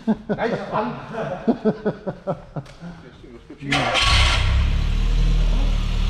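A Volkswagen Golf engine cranks and catches, then settles into a loud, steady running roar. People talk over the first few seconds of cranking.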